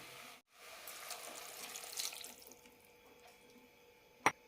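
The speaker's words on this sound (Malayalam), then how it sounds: "കഷ്ണങ്ങൾ വേവാനുള്ള വെള്ളം ഒഴിക്കാം" Water poured over pieces of bottle gourd in a cooking pot makes a quiet, steady splashing stream for a couple of seconds, then trails off, followed by a single sharp clink.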